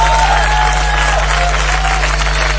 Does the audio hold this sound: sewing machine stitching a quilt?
no